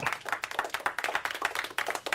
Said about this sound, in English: Polite There we go. golf applause.